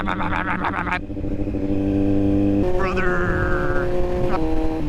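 A 2024 Kawasaki Z900 motorcycle engine rumbles and revs, its exhaust shifting pitch as the throttle changes, close and loud.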